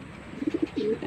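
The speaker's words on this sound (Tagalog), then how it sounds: "Ayan na sila mga kalapatids." Racing pigeons bred for derby coo softly nearby, a quick run of three or four low throaty notes followed by a longer rolling coo, faint and close.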